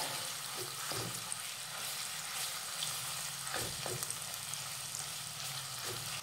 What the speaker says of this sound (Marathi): आपण तयार केलेलं वाटण घालूयात आणि हे वाटण साधारण 3 ते 4 मिनिटं व्यवस्थित परतून घेऊयात